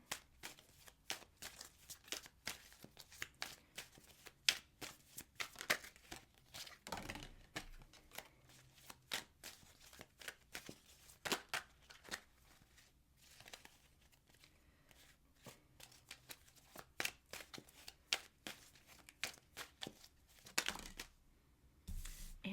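Tarot cards are shuffled and riffled in irregular bursts of quick, close papery slaps and crinkles, with short quiet gaps between.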